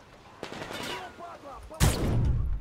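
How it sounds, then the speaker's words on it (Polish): Gunfire in the video game Metro Exodus, Sam's Story DLC: a loud burst of shots lands late, with a rattling volley, after a quieter stretch of faint game noise and muffled sounds. "Skąd te strzały tu dochodzą?"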